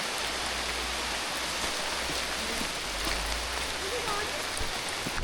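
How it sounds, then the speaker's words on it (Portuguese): Heavy rain pours steadily on a rainforest trail near La Fortuna, Costa Rica, a dense, continuous hiss with scattered drips and no break across the whole stretch. "foi só falar da chuva que ela apertou de novo"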